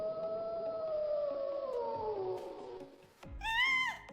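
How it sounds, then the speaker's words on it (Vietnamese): Wolf howling as a sound effect in a narrated story, a long, slowly falling howl held for about three seconds, followed by a brief rustle and a short, higher wavering howl. "Sói, là sói, đừng có kêu."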